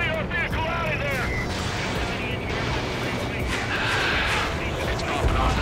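Anti-aircraft guns firing in the jet combat game Ace Combat 7, a continuous rumbling barrage with booms and explosions beneath radio chatter.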